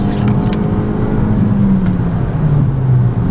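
An Abarth 500 in third gear accelerates on a two-lane road to overtake a semi truck, its engine note a steady, loud drone that climbs gradually in pitch over a few seconds, with road and wind noise beneath and no talking.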